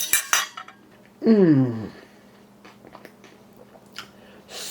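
Cutlery clinks on a plate at a home dinner of spaghetti and meatballs, followed by soft chewing and a brief pleased murmur, with a few quiet clicks and mouth sounds close by.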